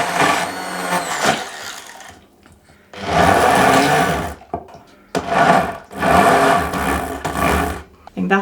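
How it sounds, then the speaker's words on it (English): Handheld blender blitzing a fruit coulis for panna cotta, running loud in two long bursts with brief pauses between them, while someone talks over the gaps. "I'm just going to give this a bit of a blitz with this thing"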